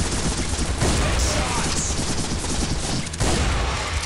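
Rapid, dense gunfire from the mobile shooter game Gun Glory: Anarchy fills the whole stretch, a steady loud barrage of shots with a brief dip near the end before it resumes.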